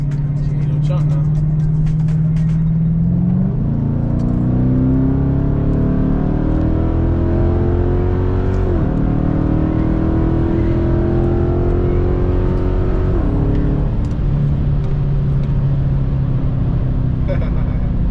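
A Chrysler 300 engine revs and pulls hard, its pitch climbing through several gear shifts in a loud, sustained roar heard from inside the car, with someone talking over it.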